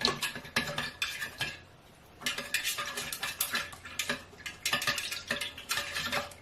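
A utensil stirs melted candle wax and fragrance oil in a container, giving rapid rhythmic scraping and clinking that runs steadily, pauses briefly, then resumes, close and clear with no voices.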